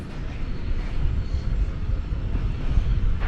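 An airliner departs DFW Airport at night, its engine roar a loud, steady low rumble that fills the whole stretch with a slight swell in the middle, buffeted by some wind noise on the microphone, with no voices.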